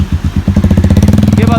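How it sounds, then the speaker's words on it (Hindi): A motorcycle engine, a Pulsar 180 or Bullet 350, thumps steadily at close range in a fast, even pulsing rhythm that quickens slightly toward the end. "अगर आपको मतलब इस बाइक की आवाज़ बहुत सही लग रही है"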